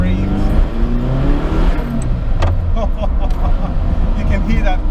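A Ferrari F40's twin-turbo V8 revs loudly and close by, with sharp pops from the exhaust, while people talk over the engine noise.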